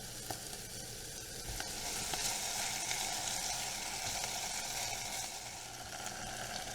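Celery, onions, mushrooms and black olives cooking in a pan with cream cheese, giving a soft, continuous sizzle and bubbling that stays steady at low volume, with no talking.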